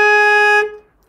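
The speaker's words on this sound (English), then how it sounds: "That's what a saxophone sounds like." A single sustained saxophone note sounded through the reed, rich in evenly stacked harmonics, held loud and steady for about half a second before cutting off and fading into silence.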